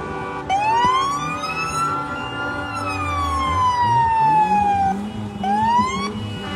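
A loud wailing siren sweeps up and down continuously, close by, with a rumbling engine underneath, at a street protest in Arad.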